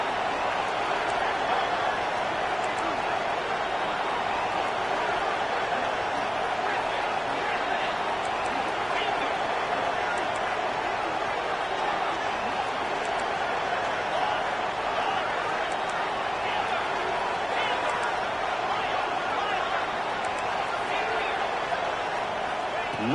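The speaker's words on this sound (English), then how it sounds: "This crowd is trying to inspire this defense to make a big red zone stop." Roaring college football stadium crowd during a red zone defensive stand, a steady dense wash of cheering and noise holding constant throughout, with a commentator talking over it.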